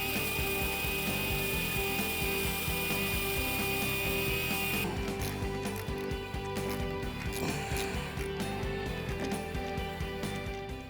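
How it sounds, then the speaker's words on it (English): Electric drill spinning an old rubber valve stem against a car surface on a 1981-1988 Fox Body Mustang, a steady whirring grind with scraping texture running throughout, fairly quiet and without speech. "get an old valve stem, it actually becomes like a rubber wheel on the edge of your drill"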